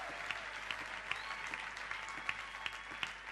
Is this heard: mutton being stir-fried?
no